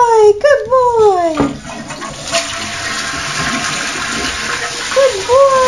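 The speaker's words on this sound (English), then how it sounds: "I'll flush the toilet." A toilet flushes with a rushing, gurgling swirl of water that fills most of the clip, with voices and a child's sounds over the start and end.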